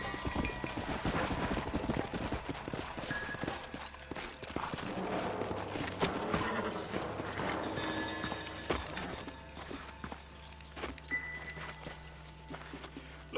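Horse hooves clip-clop in an uneven, overlapping rhythm amid scattered game sounds and low background noise, moderately close, in Red Dead Redemption.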